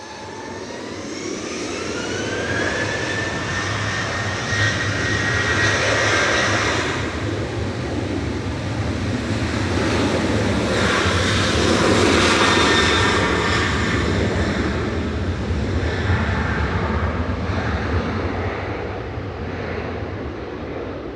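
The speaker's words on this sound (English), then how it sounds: "Flight 995 to Gran Canaria departing there." Jet airliner departing Manchester Airport on a flight to Gran Canaria, its engine roar swelling to a peak midway and fading slowly, with a rising whine near the start and no talk.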